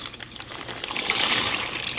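Dry pasta drops into a pot of water at a rolling boil, giving a short burst of bubbling, splashing and hissing that swells slightly toward the end.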